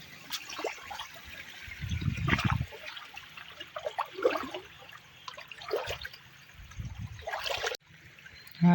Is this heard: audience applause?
no